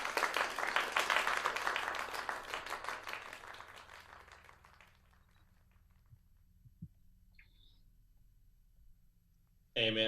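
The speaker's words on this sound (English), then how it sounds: "Let's get a big round of applause." A live improv showcase audience claps in a dense burst of applause that starts loud and gradually thins out over several seconds, leaving a quiet room with a few faint stray sounds before a sudden noise at the end.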